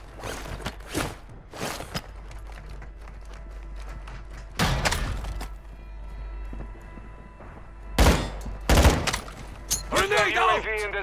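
Gunfire in the video game Call of Duty Modern Warfare II comes in several loud clustered bursts separated by quieter stretches of footsteps and gear rustle, with radio-style voices talking in between.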